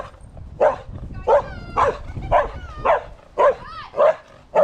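A dog barks repeatedly and close by, with regular sharp barks and a few whimpering yips in between, during a ride around Teignmouth on an Inmotion V12 electric unicycle.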